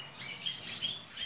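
Caged canaries at a bird breeder's chirp faintly, with quick high tweets repeating over a soft steady background hiss.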